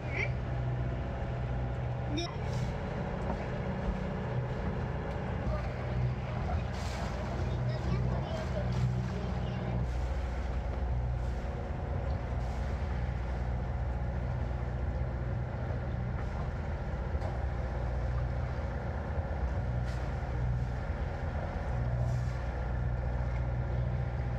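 A sailboat's motor drones steadily at low pitch throughout, a constant mechanical hum with occasional faint knocks and clicks over it, at sea on the Mediterranean.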